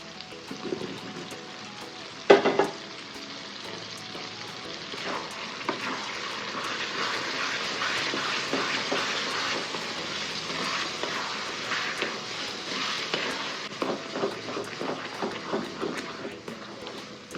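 Mushroom caps go into a pan of hotel-style pepper masala and are stirred, giving a continuous close sizzle with a sharp clatter early on and repeated scraping strokes throughout.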